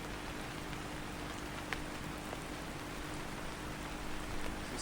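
Heavy rain falls in a steady, dense hiss that stays even throughout, with no voices.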